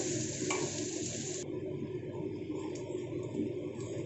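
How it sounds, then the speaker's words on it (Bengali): Chopped onions fry in a pan with cloves and cardamom, giving a steady, even sizzle that continues throughout with no talking. "এবার পেঁয়াজটাকে দিয়ে দিলাম, কুচনো পেঁয়াজটাকেও বেশ ভালো করে একটু ভেজে নেব"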